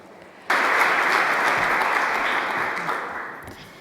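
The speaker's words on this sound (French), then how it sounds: "maintenant nous allons faire un applaudissement pour Mamta Murthy." Applause from a conference audience breaks out suddenly, a dense, loud wash of clapping that holds steady and then slowly fades near the end.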